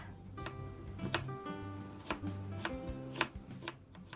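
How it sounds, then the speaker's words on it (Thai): Knife dicing potatoes on a cutting board in quick, uneven bursts of sharp taps, close and fairly quiet, with no talking. "มันฝรั่งปอกเปลือกล้างให้สะอาดแล้วนำมาหั่นเป็นเต๋าเล็กค่ะ"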